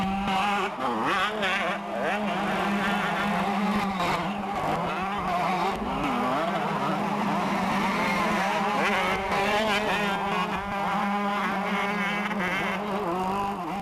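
125cc Honda Elf motocross motorcycles racing at the 1994 French 125 Motocross Grand Prix in Sourdeval, engines buzzing and revving continuously and loudly throughout, with overlapping machines rising and falling in pitch.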